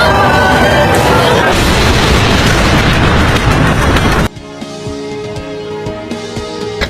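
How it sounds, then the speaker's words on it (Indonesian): A huge explosion from an ice dragon and a thunder dragon clashing in an arena, a loud, dense roar filling the first four seconds before cutting off abruptly into a quieter, sparse background. "Naga es dan naga guntur pun kemudian saling berbentrokan satu sama lain, menghasilkan ledakan sangat kuat yang memenuhi arena."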